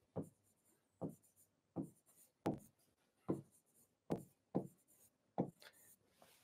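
Someone writes a set on a board in crisp, evenly spaced strokes, about eight distinct scratches with short pauses between them, close and alone with no talking.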